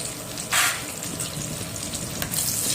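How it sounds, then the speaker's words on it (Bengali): Chopped garlic, ginger, onion, dried chillies, bay leaves and five-spice seeds frying in oil in a wok, a close steady sizzle with brief stirring scrapes and no talking. "কড়াই তেলের মধ্যে রসুন কুচি আদা কুচি পেঁয়াজ কুচানো শুকনো লঙ্কা তেজপাতা পাঁচ ফোড়ন দিয়ে ভালো করে কষিয়ে নিতে হবে"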